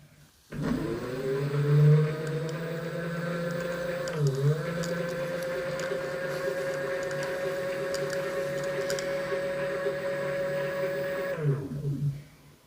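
A small electric bike motor in assist mode 1 whirs up and holds a steady, close hum at one constant speed for about ten seconds, then winds down and stops.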